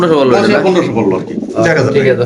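Pigeons at a pigeon farm coo in low, throaty, rolling calls, heard close and loud, mixed with a person's voice talking over them.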